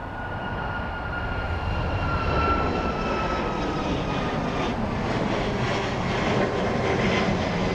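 A Ryanair jet rolls for takeoff at Dublin Airport on a windy day, giving a sustained, fairly distant engine roar with a faint whine that swells slightly as it goes.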